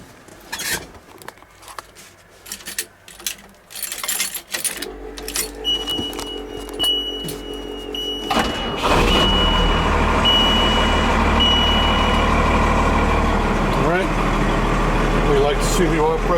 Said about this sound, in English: Now see, now the engine's running.